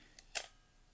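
A film camera's shutter fires at a slow speed with no battery fitted, giving two crisp mechanical clicks about a fifth of a second apart, close and fairly quiet against near silence.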